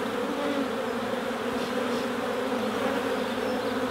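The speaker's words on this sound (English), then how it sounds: "There's a lot of bees in here to find a queen" Dense, steady buzzing of a great many honey bees crowding an open hive during an inspection, a continuous close hum with no pauses.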